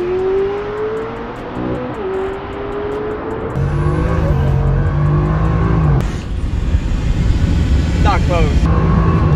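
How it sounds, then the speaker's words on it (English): A Tesla Model S Plaid and a Bugatti Chiron launch side by side in a drag race, engine and drivetrain tones climbing steadily in pitch, growing louder with a sharp surge partway through, then falling away as the cars pull off. "All right, it's time to launch these cars."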